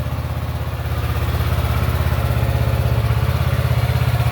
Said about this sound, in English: You can hear the pulse of that motor.